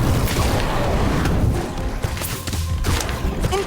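A fiery Incendio spell erupts in the Harry Potter Magic Awakened video game, a sustained loud booming rush with thuds and crackling bursts, dipping slightly midway before swelling again.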